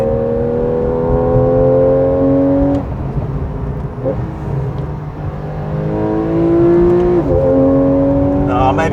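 A 424bhp Porsche 911 Carrera 4 GTS accelerates from inside the cabin, its engine note climbing steadily before two quick upshifts drop the pitch, loud and sustained throughout.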